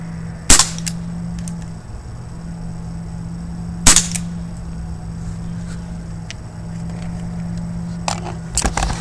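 Several sharp, snappy shots from a Crosman Vigilante air pistol losing power, spaced seconds apart, the last ones in a quick cluster, over a steady low mechanical hum.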